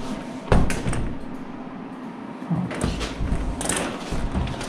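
A door in a large building complex is tried and opened, with a sharp clunk of the handle or latch followed by a few more knocks and rattles over a steady background hum.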